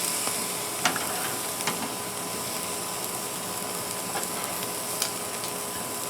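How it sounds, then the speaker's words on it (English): Butter basting sauce sizzles and hisses steadily on a New York strip steak on a grill, a close, continuous frying noise with a few faint pops and no talking. "I'm going to go ahead and paint this side with a little bit more of the butter sauce."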